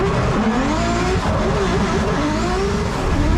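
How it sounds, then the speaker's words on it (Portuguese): A 1000hp Subaru BRZ fitted with turbo and nitrous roars loudly up close on launch, a sustained rising engine note with harsh, dense mechanical noise and no talking. "Quando eu voltar a acelerar, o nitro vai entrar."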